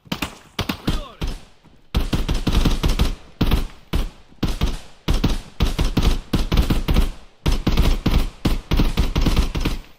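Rapid bursts of gunfire in the tactical shooter Contractors Exfil, with repeated sharp volleys and short pauses, loud and close, mostly alone with little talk.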